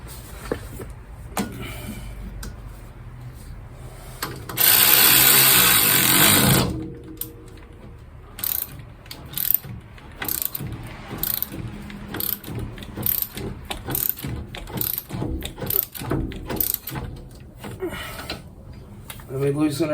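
A ratchet snugs up an axle nut on a 1997 Honda Civic, giving a brief burst of rapid clicking followed by scattered, uneven clicks and clanks close by, with talk in between.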